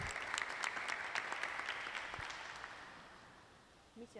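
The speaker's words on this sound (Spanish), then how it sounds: "Así que un doble aplauso le pido para Leandro, que es un instrumento de Dios." An audience at a faith-themed gathering applauds in a dense burst of clapping that starts loud and gradually thins and fades over a few seconds, with a brief voice near the end.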